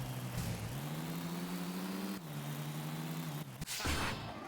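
A loud car engine from the Tony Hawk's Underground video game drones at a steady idle-to-mid rev, shifting pitch slightly a couple of times before a brief burst of noise near the end.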